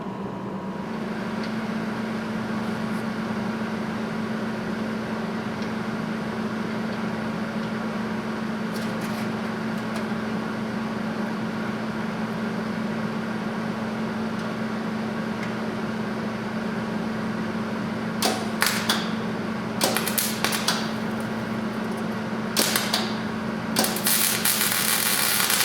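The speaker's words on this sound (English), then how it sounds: "Okay, so that was a real messy weld." Welding on a 1937 Chevy truck grille, heard as a steady buzzing electric hum with constant crackle, then sharp bursts of spatter toward the end.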